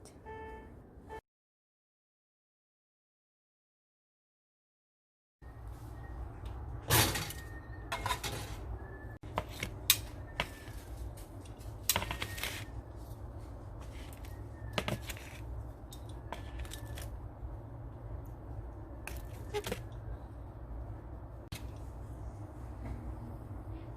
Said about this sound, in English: Let's cut off some pattern from our aluminum cardboard